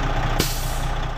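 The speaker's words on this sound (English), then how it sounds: "When the compressor dumps air, it sounds like this." A truck's air compressor dumps air to the atmosphere in one steady, loud hiss that fills the whole moment, with a brief sharper burst near the start.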